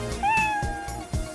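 A cat meows once, a clear rising and falling cry that stands out near and loud, with soft thumping and shuffling noises around it.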